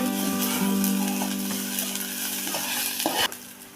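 A masala of garlic and coconut roasts in a pan for a green pea vegetable dish, with a loud close sizzle and repeated spatula scrapes and knocks, ending in a sharp clatter.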